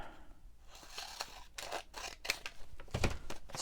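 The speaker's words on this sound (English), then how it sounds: "We'll cut it shorter." Scissors snipping through paper to shape an envelope, a quick series of close, crisp cuts in an uneven rhythm, quiet and alone.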